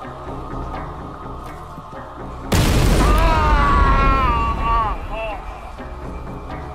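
A bomb blast in a documentary bursts in suddenly after a quiet stretch, loud and broadband, then rings into a rumbling, crackling tail with a wavering high tone that slowly fades.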